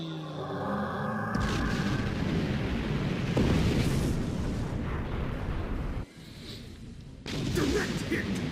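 Weapons fire and explosions in the space combat game Star Trek Online, a run of deep booms and crackling blasts with a short lull before the barrage resumes.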